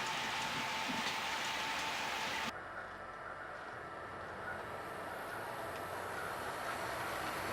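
A model freight train, number 301, rolls along its track on a Pennsylvania-themed layout coming out of a tunnel, giving a steady, continuous rumble and hiss that drops to a softer level partway through.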